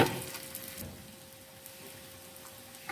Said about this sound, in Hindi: इसी तरह से बाकी भी हम कबाब को फ्राई कर लेते हैं।